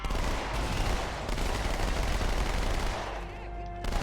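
Dual-wielded SMGs fire in Halo as rapid automatic gunfire, a dense continuous roar of shots that stays loud and close for several seconds before cutting off, leaving a brief electronic ring.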